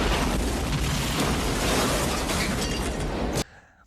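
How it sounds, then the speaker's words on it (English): A car explodes in a sustained, loud, broadband roar of blast and shattering debris lasting over three seconds, then cutting off abruptly into a quiet tail. "just catastrophic car explosion"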